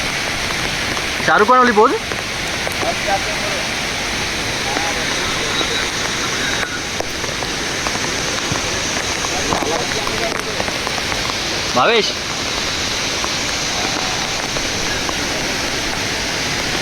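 A waterfall in the Konkan countryside roars as a loud, steady broadband rush close by, with people calling and talking over it now and then.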